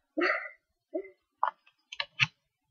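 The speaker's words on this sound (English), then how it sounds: "My dog won't shut up." A dog gives a quick series of five short barks and yips, close and fairly loud, in uneven bursts with no talk.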